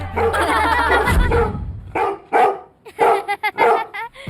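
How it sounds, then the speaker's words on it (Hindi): A dog barks in a run of sharp, loud, close barks separated by short pauses, with a few clipped yips mixed in. "आधी रात से ये ऐसे ही भौंक रहा है, ठीक से सोने भी नहीं दिया इसने।"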